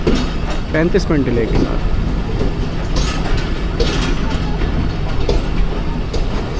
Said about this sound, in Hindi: 14 डाउन अवाम एक्सप्रेस लाला मूसा जंक्शन पे अप्रोच बना रही है